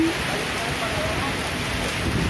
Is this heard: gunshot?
no